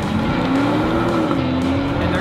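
A Dodge Challenger R/T Shaker drives by with a loud, steady engine roar and a rising whine as it accelerates, close and continuous throughout.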